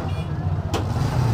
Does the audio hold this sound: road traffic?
yes